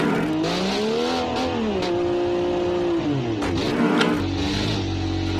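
A BMW E30 M Sport car in BeamNG.drive hums and drones steadily, engine pitch rising and falling as it accelerates and corners, loud and close with no talking.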